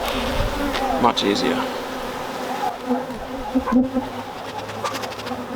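Honey bees buzz in a steady, busy drone around an open brood box during a frame inspection, with a few louder passes close by as a person talks briefly.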